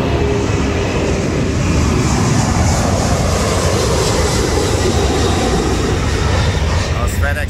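An airplane takes off behind an aircraft maintenance area, a loud, constant broadband engine roar that fills the whole stretch without letting up.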